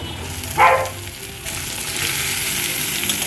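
Onions sizzle steadily in a hot pan, close up, with a brief stirring scrape near the start.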